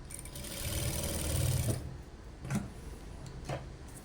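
Sewing machine stitching fabric, a short run of rapid whirring stitches followed by a few faint isolated clicks, quiet and close.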